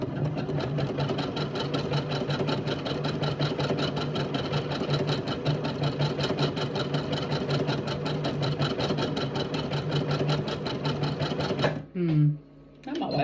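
A sewing machine runs a 2.5 inch stitch in a steady, fast mechanical rhythm for most of the stretch, then stops near the end as a voice briefly speaks.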